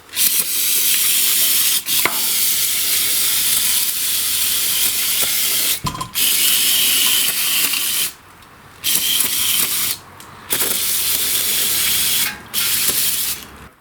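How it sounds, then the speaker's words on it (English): A can of brake cleaner sprays onto a lawn tractor engine in long hissing bursts, loud and close, broken by several short pauses and a few clicks between sprays. "Now what I'll do is clean the engine with some brake cleaner."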